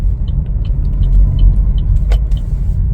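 A 2023 Chevrolet Trailblazer RS drives along the road, a loud steady low rumble of engine and tire noise from inside the cabin, with a brief bump partway through.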